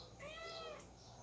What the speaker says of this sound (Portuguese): essa é minha gata aí, ó